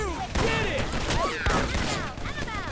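Gunfire in the online shooter game Micro Volts, bursts of rapid shots with whistling, sweeping effects layered over them, loud and busy with speech mixed in.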